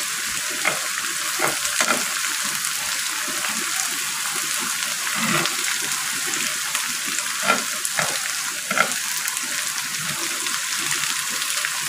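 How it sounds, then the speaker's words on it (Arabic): Chard frying in oil in a pan while being stirred by hand, a steady bright sizzle with soft scraping and stirring knocks throughout, close and continuous with no talk. "بعد ما تصغري وتحطي السلق. تقعدي ايدك فيه كده تقلبيه عشان ما يتحرقش"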